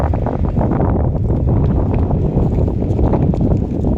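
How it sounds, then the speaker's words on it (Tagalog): Strong wind buffets the microphone in a continuous loud, low roar with gusty rumbling throughout. "sobrang lakas ng hangin."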